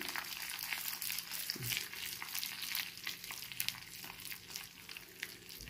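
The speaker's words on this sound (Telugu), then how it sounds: "తాలింపు కోసం నూనె వేసుకున్నాను. అందులో కొంచెం కరివేపాకు, ఆవాలు ఇది వేసి తాలింపు వేయాలండి పచ్చడికి." Curry leaves and mustard seeds tempering in hot oil for chutney give a steady, fairly quiet crackling sizzle with scattered sharper pops throughout, alone without talk.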